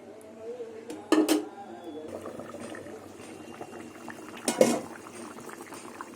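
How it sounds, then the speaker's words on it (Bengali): Mutton curry gravy with potatoes simmering in a pot in a home kitchen, a steady bubbling boil throughout with two louder bursts of clatter or splashing, close by; a voice is heard faintly in the background. "ঝোলটা ফুটুক তারপরে আলুটা দিয়ে একটু ফুটিয়ে নামিয়ে নেব"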